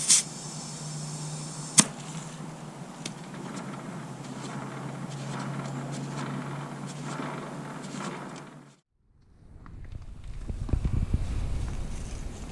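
Air hisses steadily into a tubeless tire treated with green slime sealant, a continuous close rush that stops abruptly after about eight seconds, followed by a lower, rougher handling noise.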